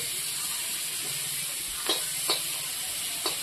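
Dried fish frying in a pan over a village cooking fire gives a steady hissing sizzle, broken by a few sharp spitting pops near the end.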